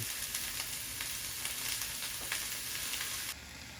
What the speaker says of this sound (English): We're just going to get them in a hot oil pan. Let them release some moisture.